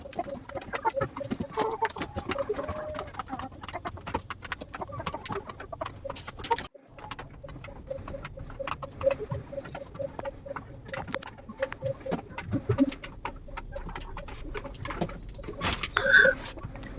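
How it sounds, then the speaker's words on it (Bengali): Hens and roosters cluck and stir in a two-storey coop, roosters kept on the upper platform and hens below, with steady nearby clucking, scratching and shuffling throughout. "এটা আমার দোতলা মুরগির ঘর, মানে উপরে মাচা করা আছে, উপরে মোরগগুলো রাখা আছে আর নিচে মুরগিগুলো"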